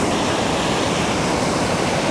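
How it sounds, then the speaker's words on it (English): Skyfall Waterfall in Glen Etive roars at close range, a loud, dense and unbroken rush of falling water that fills everything with no voices. "You're probably getting nothing but water noise."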